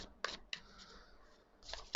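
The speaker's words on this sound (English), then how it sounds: "let's shuffle out a card." A Disney Villains tarot deck is shuffled in a few quick, faint riffles and soft card flicks, close by in a quiet room.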